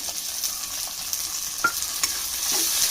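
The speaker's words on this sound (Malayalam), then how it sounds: "തക്കാളിയും ഒന്ന് സോഫ്റ്റ് ആവുന്ന വരെ നമുക്ക് വഴറ്റിയെടുക്കാം" Onions and tomatoes sauté in a pan for a Kerala-style mackerel curry, giving a steady sizzle with occasional scraping stirs of the spatula, close and alone without talk.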